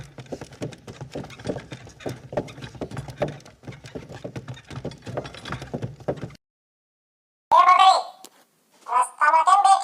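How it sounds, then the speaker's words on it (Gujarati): Hooves clip-clop steadily as a cart loaded with jaggery arrives in a Gujarati children's story, then break off into silence before short, louder bursts of sound near the end. "ત્યાર પછી આવ્યું ગોળનું ગાડું."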